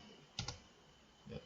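Typing on a computer keyboard while working in Excel: a few quiet key clicks, two close together and then one more after a pause, over faint background hiss.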